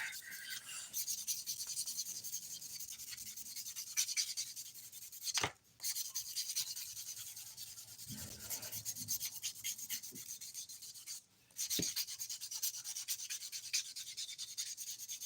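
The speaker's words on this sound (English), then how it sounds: "I'm just going to use this sponge file rather than buffing since I'm already using it" A sponge file rubs back and forth over dip-powder fingernails in steady, soft, close scratching strokes that run almost continuously, broken by two short pauses, with no voices.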